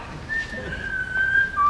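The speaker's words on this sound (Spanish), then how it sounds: "¿Qué haces silbando?" A person whistles a sustained, wavering tune indoors in a theatre during a rehearsal of a play, the clear whistle alone and fairly close for under two seconds.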